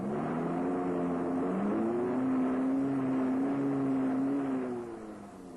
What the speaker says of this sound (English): Sudden bursts of power cause the wheels to spin, and the vehicle digs deeper into trouble